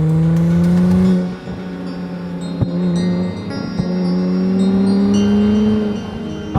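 A 2018 Acura NSX supercar driving, its engine a loud, steady droning tone heard from close up that dips briefly, then rises and holds through the rest of the run.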